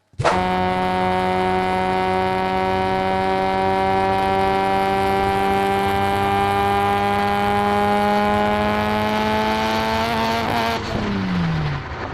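A car engine holds a steady, loud drone at a constant pitch for about ten seconds, then drops sharply in pitch near the end and tails off, with no voices.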